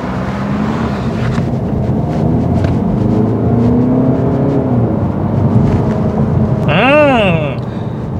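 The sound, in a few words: Peugeot 308 GT accelerating hard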